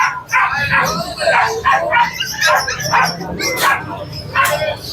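XL bully puppies at a pet market yipping and barking in rapid, repeated bursts close by, with people talking among the yelps throughout.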